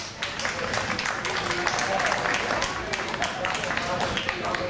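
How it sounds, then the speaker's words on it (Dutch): A crowd applauds for Wendy Van Wanten at her 25-year jubilee celebration at Terrazza in 2015: continuous, fairly loud clapping, mixed with voices, for several seconds. "Uw applaus voor Wendy van Wanten"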